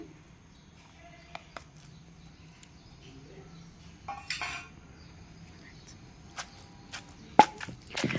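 Scattered knocks of fried okra and tomatoes being pounded in a stone mortar for a chutney, irregular and fairly faint, with a few sharper thuds toward the end over a quiet background.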